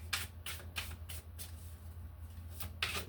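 Tarot cards are shuffled close by, a series of quick papery riffles and flicks in bursts, fairly quiet and alone.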